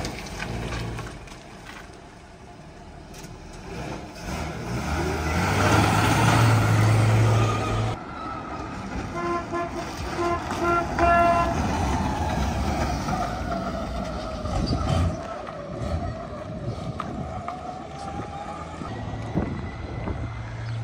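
An HQ Kingswood drives down a road with a close, rumbling engine note that swells and fades with throttle, a rising whine mixed in, and wind and road noise around it.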